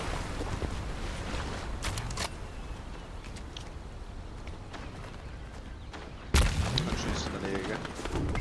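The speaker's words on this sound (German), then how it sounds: "Schüsse rechts von mir." Scattered gunfire in a Fortnite match, a few sharp shots over a dense game soundscape, with a louder burst near the end.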